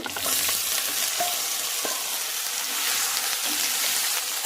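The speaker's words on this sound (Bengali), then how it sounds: "এবার এটার মধ্যে ইডলিগুলোকে আমি দিয়ে দেব" Mini idlis made from flattened rice (chira) crackle and fry in hot oil in a pan with curry leaves and a pinch of dried fenugreek leaves, a steady close sizzle with a few stirring scrapes throughout, no talking.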